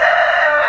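A rooster crows loudly and close by in a short, strained burst, with no voices.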